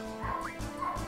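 A dog in Final Fantasy VIII Remastered gives quick, moderately loud yips and whimpering barks in a steady rhythm, set over a constant game soundtrack.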